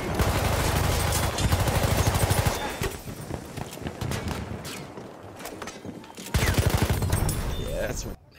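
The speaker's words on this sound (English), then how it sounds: "It's an enemy machine gun." Enemy machine guns fire in the Frontlines video game in long, loud, rapid bursts with a quieter gap of scattered shots in the middle, and a voice speaks under the gunfire.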